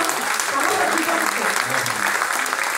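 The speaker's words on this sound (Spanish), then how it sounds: "pero un aplauso para usted, querido padre." Audience applause at a bolero and bohemian music evening in a theater hall in Las Tunas, Cuba: dense, steady clapping from a crowd, loud and sustained throughout without pause.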